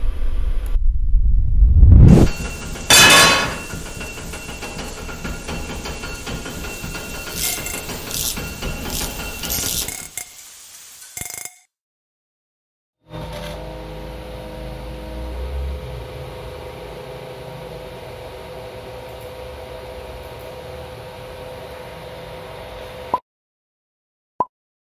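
A 3D printer runs with mechanical whirring and ratcheting, stepping motor tones and clicks, steady for stretches and broken by brief pauses.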